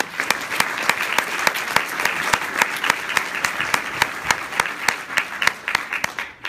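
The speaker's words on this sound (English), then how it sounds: "Please join me in giving her a round of applause for all of her hard work." Steady applause from a fashion show audience, with rhythmic claps ringing through the crowd throughout before thinning near the end.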